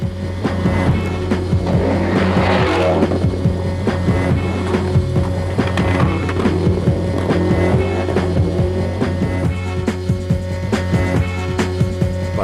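A left-hand-drive rally car with active differentials revs hard and continuously, with rising and falling pitch as it accelerates and shifts, loud and close throughout.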